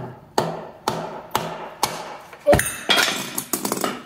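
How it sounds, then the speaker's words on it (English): Hammer taps ring out on a puller freeing a tapered crank damper fitting from a 1952 Jaguar XK120 engine, about four sharp, evenly spaced metallic strikes followed by a quicker cluster of clanks as the part comes loose. "I'm going to try a puller. Maybe a few taps."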